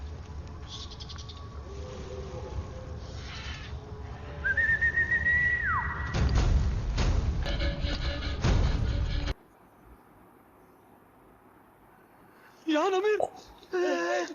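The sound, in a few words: whistled imitation of a koel call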